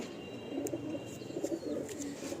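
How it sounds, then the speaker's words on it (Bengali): Pigeons in a loft coo in soft, low, overlapping rolls, with a few sharp faint clicks over a steady background hush. "মারাত্মক ছটফটে পায়রা"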